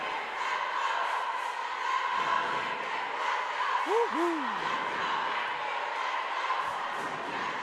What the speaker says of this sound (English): Lincoln crowd seems to be hyped up even though they're down